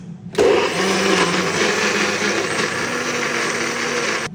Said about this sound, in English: Right here, we just blend up.